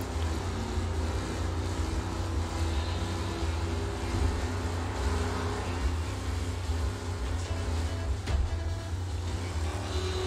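A car engine drones steadily while driving in the video game Mafia, a continuous low rumble with road noise, loud and unbroken throughout with no talking.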